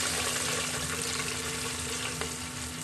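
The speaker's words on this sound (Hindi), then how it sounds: "इसमें हम थोड़ा सा पानी ऐड करेंगे।" Water pours into a rice cooker over golden fried onion, garlic and ginger while aloo matar pulao is being made, giving a steady, close rushing splash with a faint sizzle underneath and no talk.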